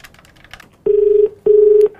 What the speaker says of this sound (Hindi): मुर्गा बनाएंगे। कॉल मिलाओ।